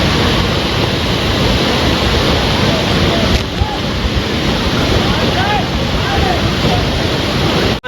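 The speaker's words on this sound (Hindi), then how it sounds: "तो गाइस अब हम जाने वाले हैं बिल्कुल वाटरफॉल के नीचे।" Kempty Falls in Mussoorie, heard in freezing winter from close beneath the falls, sends out a loud, unbroken roar of crashing water, with some wind buffeting the microphone.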